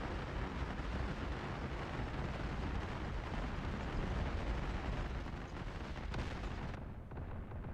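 CBU-97 cluster bombs exploding in DCS World A-10C II, a dense, sustained rumble of overlapping blasts filling the scene loudly before tapering slightly at the end, with no voices.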